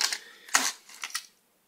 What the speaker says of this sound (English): Rapala clacking crank. It has a cylinder in there with a bearing or something that clacks back and forth